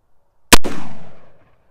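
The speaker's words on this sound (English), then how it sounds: "I'm just going to fire three shots and we'll just take an average velocity from them" A single sharp, loud gunshot from a Remington revolving carbine fired outdoors into a sand pile, an instant crack followed by a booming tail that fades over about a second.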